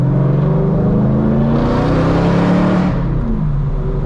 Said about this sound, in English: this car sounds insane. Kinda sounds like an E92 M3